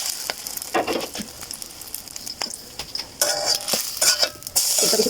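Slices of bread soaked in egg sizzle in a pan of very hot oil, a steady bright crackle with louder bursts toward the end and occasional clinks of a utensil against the pan.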